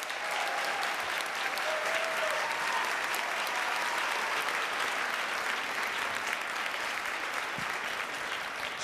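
An audience applauds pastry chef Patrice Demers in Quebec, a dense, steady roar of clapping that holds evenly throughout.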